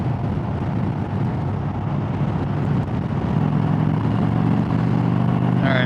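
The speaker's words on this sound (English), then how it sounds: "so this is a touring bike." Engine drone from an Indian Chieftain Darkhorse 116 touring motorcycle under way, a steady loud hum mixed with wind rush, holding throughout with no talk.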